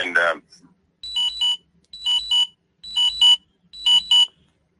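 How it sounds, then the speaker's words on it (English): Electronic alarms beep in five evenly spaced double bursts of shrill tones, loud and close, after a brief moment of a voice speaking at the start. "Sorry, my alarms are going off."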